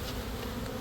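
A dense swarm of honeybees, roughly ten thousand, buzzes in a box during a rescue at a soccer camp. The drone is steady, close and loud, and no voices are heard.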